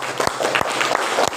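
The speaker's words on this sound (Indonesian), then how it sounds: "Tepuk tangan untuk kelompok 1." Brief burst of audience applause for a group at a guidance and counseling training session, a short patter of hand claps close by.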